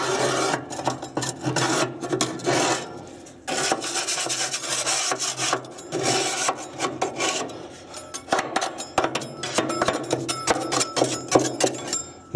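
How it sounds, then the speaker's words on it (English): A metal scraper grinds around the inside of a Weber Genesis barbecue tub, loose debris rasping in quick, uneven strokes, loud and close, with brief pauses between passes and no voices. "Time to give it a little bit of a scrape out, you know, starting around the edge and working your way back and around."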